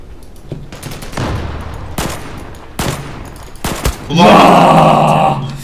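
Gunfire in a Turkish video game: a few sharp shots spaced through the first four seconds, then a loud sustained burst of firing and grunting noise near the end, with no voices speaking.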